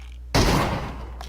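A single loud, close gunshot burst in the battle-royale video game PUBG, an abrupt bang with a decaying tail over low background rumble.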